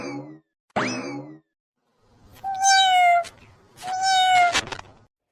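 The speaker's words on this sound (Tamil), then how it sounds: "இந்த பூனை வேற சத்தம் போட்டுட்டே இருக்கே" A cat meows several times indoors, loud and close: two short cries, then two long drawn-out meows after a pause.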